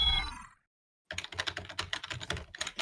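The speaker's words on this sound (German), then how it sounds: "als wir Tastaturgeräusche gehört haben, hat mein Discord-Overlay angezeigt, dass das deine waren" Rapid computer keyboard typing comes through Discord voice chat, a quick run of light clicking keystrokes following a brief tonal blip and a moment of silence, close and moderately quiet.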